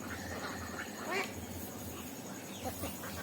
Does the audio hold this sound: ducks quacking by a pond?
yes